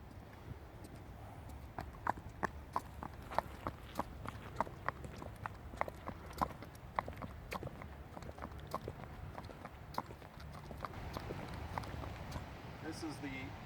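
Hooves of a BLM mustang mare walking down an outdoor trail toward a waterfall, a steady series of soft, distinct clops over a low background rumble, fairly quiet and unhurried.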